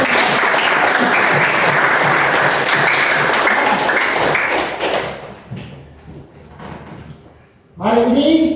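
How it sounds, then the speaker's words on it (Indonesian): Schoolchildren in a classroom burst into loud, dense applause that holds steady for about five seconds, then breaks into scattered claps and thumps before a short final burst. "Mari kita beri aplaus untuk kita."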